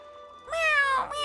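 A cat in the video game Honkai Star Rail gives a clear drawn-out meow followed by a shorter second one, close and loud over a quiet background.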